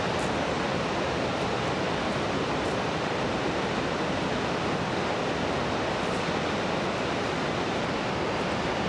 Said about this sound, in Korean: 크비타 강의 엄청난 수량이 눈과 귀의 감각을 뒤흔들어 놓는다